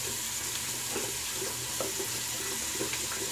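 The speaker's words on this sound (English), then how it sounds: "I'm going to get the brush soaking a little here." Tap water runs steadily in a close, quiet broadband wash to soak a shaving brush, with a few soft clinks and splashes over the flow.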